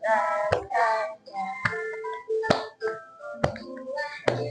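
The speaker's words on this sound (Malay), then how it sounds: "Tepuk tangan, tepuk tangan." Children clap their hands in a primary school class, a handful of sharp distinct claps spaced out between sung and spoken voices, close and fairly loud.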